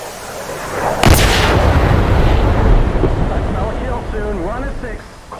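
A missile striking and blowing up an enemy jet in the DCS F-14 flight simulator: one sudden loud blast followed by a long rumbling roar that slowly fades, with someone speaking over the tail.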